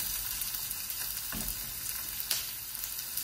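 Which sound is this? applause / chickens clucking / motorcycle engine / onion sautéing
onion sautéing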